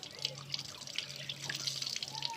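Water splashes and trickles over a sport motorcycle's chain during rinsing, a faint, close spattering with small drips.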